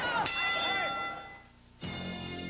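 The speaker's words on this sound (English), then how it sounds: "Bell in about 3 seconds." A boxing ring bell clangs to end a round at a televised fight between Ossie Ocasio and Jimmy Young, two loud ringing strikes that sustain and decay over crowd noise.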